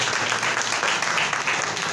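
A church congregation bursts into steady, dense applause during a Palm Sunday service, a continuous wash of clapping filling the room at close range with no voices over it.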